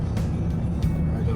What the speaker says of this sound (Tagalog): pero malakas na yung tunog ng makina